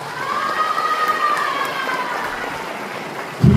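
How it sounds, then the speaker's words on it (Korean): Applause and crowd noise from an audience at a memorial ceremony for Korean War student soldiers, a sustained mass of clapping with a tonal cheer or whistle rising over it, ending in a sudden low thump. "큰 박수 부탁드립니다."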